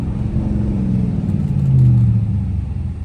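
A Dodge Charger R/T engine rumbles deep and close during a downshift, swelling into a brief louder rev midway before settling back to a low drone.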